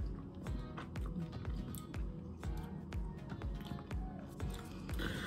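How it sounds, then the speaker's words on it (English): Crunchy bites and chewing of a Nestlé Kit Kat Drumstick, a chocolate-coated ice cream cone with a wafer, heard close up as repeated crisp crackles and soft squishy mouth sounds. "The chocolate has a nice crunch"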